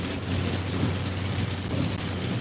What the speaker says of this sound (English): the rain's coming down really heavy across the highway right now